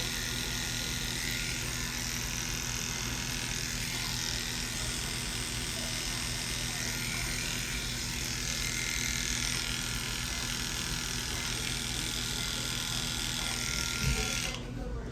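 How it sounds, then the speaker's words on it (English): Electric clippers shave an animal's coat, giving a loud, close, continuous buzzing hum with steady tone that holds throughout and cuts off near the end. "you also want to go a bunch of different ways when you shave to make sure that you get as much hair off as possible"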